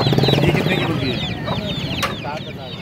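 Chickens cluck in a busy Karachi bird market, several hens giving rapid overlapping clucks close by, with a sharp squawk and market voices in the background.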